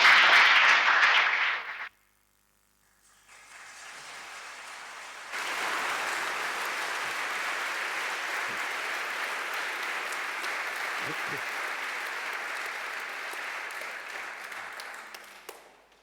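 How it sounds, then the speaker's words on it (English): Audience applause at a film screening and discussion event: a dense burst of clapping, a brief lull, then a long steady wash of many hands clapping that carries on for about ten seconds before tapering off. "Big hand of applause."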